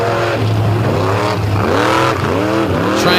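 A dirt race car charges hard across the finish line, its engine loud and close, revving up and down in repeated sweeping pitch rises and falls.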